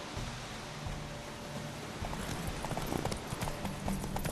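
Horse hooves clip-clop in a steady trotting rhythm beneath a wash of noisy ambience in The Witcher 3: Wild Hunt, growing more distinct in the second half.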